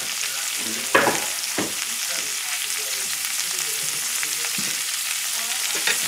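Tomato fries in a pan with a steady close sizzle, broken by a few sharp clicks and scrapes of a utensil stirring, alone with no talking.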